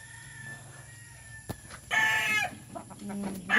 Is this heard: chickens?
yes